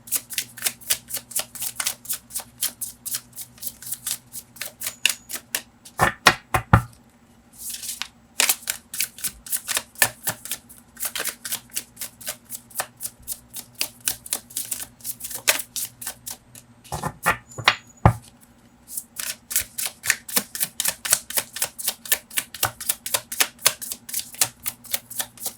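Tarot cards being shuffled by hand: rapid, crisp riffling bursts repeat close up, with a couple of short pauses and slaps between rounds.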